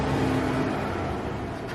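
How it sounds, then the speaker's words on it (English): A truck drives by outdoors on a summer holiday, a steady broad rumble and whoosh that stays loud and fairly close throughout the short stretch, with no talking over it. "always a truck will drive by when I'm getting serious here"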